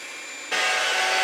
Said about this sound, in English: it is really loud in there because we're beating the eggs